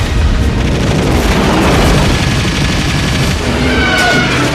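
Military gunfire and explosions from a Godzilla film battle scene form a loud, dense, continuous barrage of booms and rapid shots lasting several seconds, with no speech over it.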